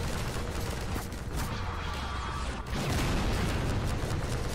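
Rapid gunfire in Half-Life 2: Episode, a dense and loud fusillade of shots with mechanical clatter that runs without a break and swells again near the end, with no voices over it.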